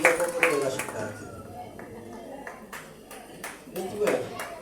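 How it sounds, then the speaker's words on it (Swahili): Members of a church congregation clap their hands in scattered bursts, a few loud close claps at the start and more near the end, with a voice talking in the quieter stretch between them. "Pigieni makofi."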